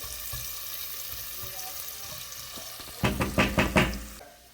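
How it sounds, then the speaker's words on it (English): Butter-based mixture sautéing in a pan for Chicken à la King, a steady soft sizzle throughout, then a burst of loud rhythmic stirring and scraping strokes near the end. "let it saute"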